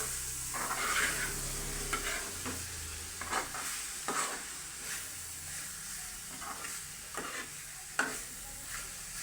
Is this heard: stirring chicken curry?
yes